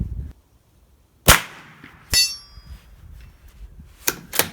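A .22LR Ruger Precision Rimfire rifle fires at a 3 3/4 inch steel plate 300 yards away, giving sharp isolated cracks with faint ringing in between, followed by two quick reports close together near the end.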